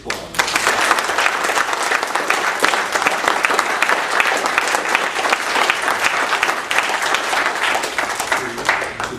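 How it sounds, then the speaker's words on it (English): Sustained applause from a debate audience honouring four candidates, a dense steady wash of many hands clapping at even loudness for about nine seconds with no pause. "a round of applause."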